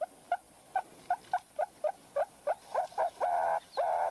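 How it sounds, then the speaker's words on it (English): Meerkats give a low urgency alarm call in the wild: a series of short, regular chirping barks roughly every quarter second, growing denser and more continuous toward the end, fairly close over faint outdoor background. "now we already have the low urgency call"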